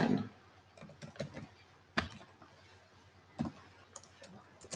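A computer mouse clicks during installation of access control software: several sharp, isolated clicks spaced irregularly over a quiet room background.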